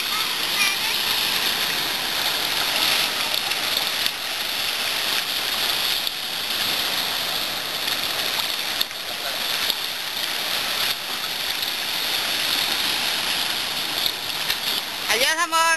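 Continuous rushing, splashing sea water at Isla Mujeres fills the whole stretch, loud and close, with occasional louder splashes and voices faintly mixed in.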